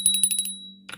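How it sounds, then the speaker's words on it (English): A small bell is rung in a quick run of about five bright, ringing strikes with a sustained tone, then fades to near silence before a brief rustle at the end. "And oh, ring the bell."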